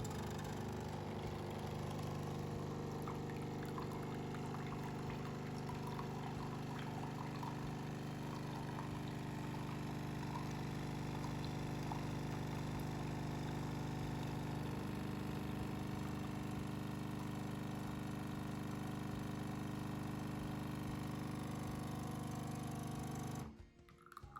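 A Nespresso Atelier S85 capsule coffee machine brewing a lungo gives a steady, loud pump hum with a buzzing drone for about 23 seconds, then stops abruptly near the end.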